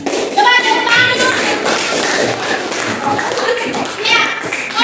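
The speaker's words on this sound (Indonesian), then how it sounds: "Coba tepuk tangan dulu." Schoolchildren clapping hands in a classroom warm-up activity, a bright patter of claps with some thumps, under lively children's voices and an adult talking nearby.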